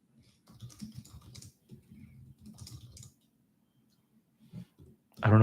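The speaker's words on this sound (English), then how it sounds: "I don't know why I'm typing" Typing on a computer keyboard during an online call, with soft key clicks in short bursts under a person talking, then a louder clatter of keystrokes at the end.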